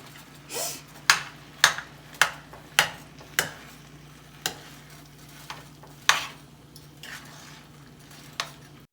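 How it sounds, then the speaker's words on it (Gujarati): A spoon stirs and scrapes mashed potato dabeli filling for Kutchi dabeli in a pan, giving a series of crisp taps and scrapes over a soft sizzle and a steady low hum. "સરસ રીતે બધો માવો મિક્સ થઈ જાય એ રીતે આપણે કરીશું"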